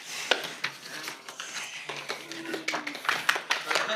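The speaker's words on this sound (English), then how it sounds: "A small amount of applause" Sparse, scattered clapping from a small audience after a university lecture, with light irregular claps near the microphone and some faint voices underneath.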